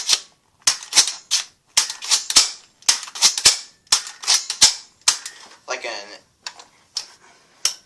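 A knockoff Nerf blaster fires foam darts in rapid succession, a string of sharp, close clicks and snaps with short pauses, under excited talk.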